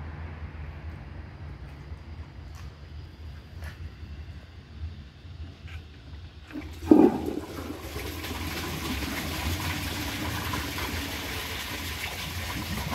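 A 1919 Crane Purus toilet is flushed; after low background rumble, a sharp clunk of the handle starts a steady rushing of water that continues to the end.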